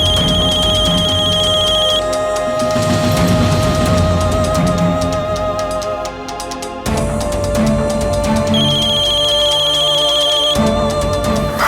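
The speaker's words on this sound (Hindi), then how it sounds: "फोन उठाओ प्लीज।" A phone ringtone plays loudly in a repeating electronic melody, with a short gap midway before it resumes.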